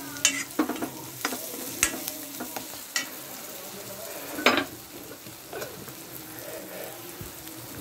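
Green chilies hiss and sizzle in a pan of frying egg bhurji while a spoon scrapes and stirs, the clicks and scrapes coming in irregular bursts over a steady sizzle.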